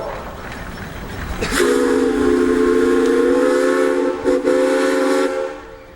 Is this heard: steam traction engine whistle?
yes